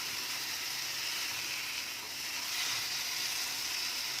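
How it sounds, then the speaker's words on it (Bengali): Fried potatoes go into a pan of spiced masala for a Bengali egg curry, and a steady, loud hiss of frying sizzle runs without a break until it cuts off abruptly. "এবার আমি ভাজা আলুটা দিয়ে দিচ্ছি, দিয়ে ভালোভাবে মিশিয়ে নেব।"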